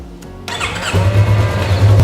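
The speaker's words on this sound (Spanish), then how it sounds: "Vamos a encender la motocicleta" A motorcycle being serviced in a repair shop starts up, with a brief squeal of the starter before the engine catches and settles into a loud, steady rumbling idle close by.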